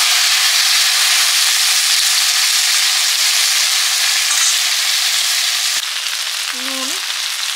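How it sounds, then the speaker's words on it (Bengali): Taro stolons frying in mustard oil, a loud, close, continuous sizzle and crackle that fills the clip, with a brief utensil knock and squeak near the end. "লতিগুলো ভেজে নেব সর্ষের তেল"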